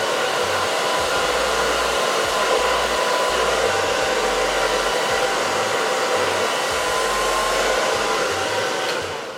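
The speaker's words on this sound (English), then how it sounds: "if you have a dryer that has like this attachment on there, I like to use mine" A hair dryer with a nozzle attachment blows steadily and loudly at close range for the whole stretch, pressing lace during a closure wig install, a continuous whooshing roar with no talking.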